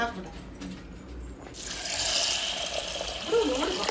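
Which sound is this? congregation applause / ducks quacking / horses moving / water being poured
water being poured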